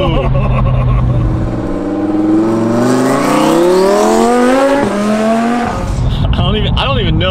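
A new twin-turbo Audi R8 accelerates hard with a loud, rising engine note that climbs steadily through the revs. A brief tire squeal comes near the end, and a voice is faintly audible underneath.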